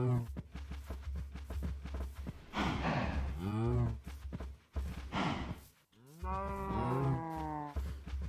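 Minecraft cows give several drawn-out moos, one after another, against continuous background game sound and voices talking.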